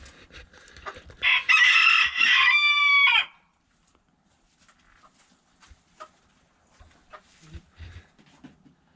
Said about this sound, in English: that black and white one's always crowing